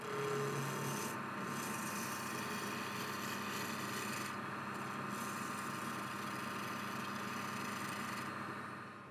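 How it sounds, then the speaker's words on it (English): Bowl gouge cutting a wooden handle on a lathe, a continuous rough scraping rasp over the machine's steady hum, close and even throughout. "I'm using a bowl gouge to take off the excess material to get a parallel round"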